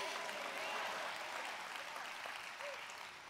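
A church congregation claps together during a sermon. The applause is steady and fairly soft, sounds somewhat distant, and tapers slightly at the end.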